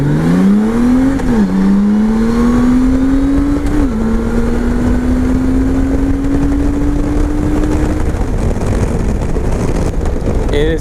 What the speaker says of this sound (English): Just get a quick 0 to 60,